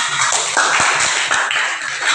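Classroom clapping from students in an Indonesian lesson on procedure texts, a short burst of brisk, uneven hand claps close by with a few sharper taps standing out.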